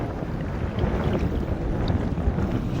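Sea waves wash over a fishing boat at sea, a continuous rough rumble of churning water mixed with heavy wind buffeting the microphone, steady and loud throughout with no voices.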